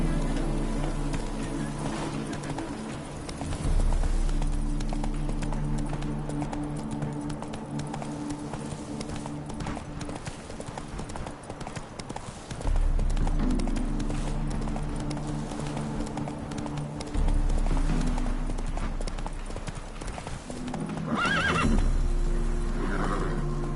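Horse in The Witcher 3 clip-clopping at a steady gallop with whinnies and neighs, hoofbeats loud and continuous over a low rumbling game score that swells and drops in several sections.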